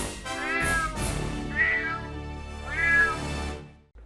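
Cat meowing used as a series title sound effect, three drawn-out meows in a row, loud and close with a bright, wavering pitch, and no talking.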